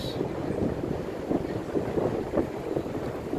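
Steady wind blowing across a crowded sea beach at Cox's Bazar at night, a continuous low rushing buffeting the microphone with faint surf underneath.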